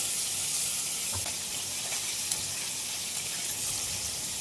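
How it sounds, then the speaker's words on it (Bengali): Bhola fish frying in hot oil for a spicy Bengali fish curry, a steady dense sizzle holding level throughout with a few faint pops and no talking. "আর ভোলা মাছটা একটু বেশি লাল করেই ভাজতে হয়"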